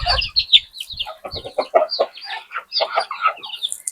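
Several native country chickens cluck busily close by while eating feed on a farm, a dense run of short clucks and squawks with no talk.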